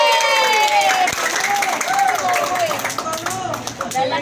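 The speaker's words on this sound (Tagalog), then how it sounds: "Ang hina na palakpak nyo!" An audience at an outdoor store event claps and cheers loudly and continuously, with voices calling out over the steady applause.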